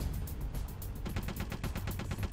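A dense rattle of rapid gunfire in Metal Gear Solid: The Twin Snakes, fast repeating bursts with no pauses and no voices.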